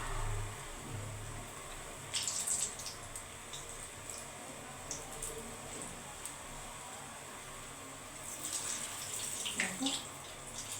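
Gulab jamun balls frying in hot oil, a continuous fizzing hiss of bubbling oil with occasional louder sizzling surges and faint pops, close and steady.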